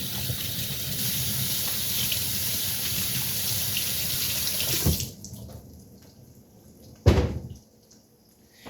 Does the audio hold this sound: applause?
no